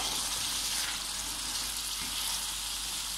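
Boiled chickpeas go into a pot of kofta curry, giving a steady loud hiss and sizzle with faint stirring, no talk.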